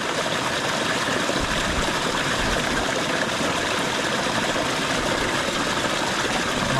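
Water rushes steadily in a stream near a waterfall, a loud, continuous broadband wash heard close by with no breaks, and no one speaks over it.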